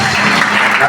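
A church congregation bursts into loud applause acclaiming Jesus during worship, a dense burst of clapping close by with a voice faintly mixed in.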